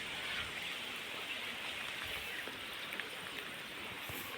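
Steady rain hissing across the whole clip at a temple, with scattered droplet ticks on a surface and no voices.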